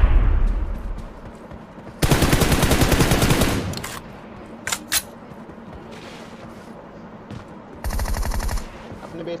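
Rapid automatic gunfire rattles out in two loud bursts in a shooting video game, with a few sharp single shots between them over a steady background of game ambience.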